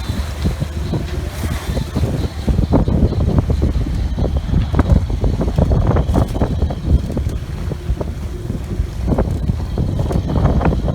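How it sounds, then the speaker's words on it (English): Wind over tide in about 10 knots aboard a small sailing boat off Anglesey, loud steady wind buffeting the microphone with choppy water slapping and rushing against the hull throughout. "This is just wind over tide in about 10 knots."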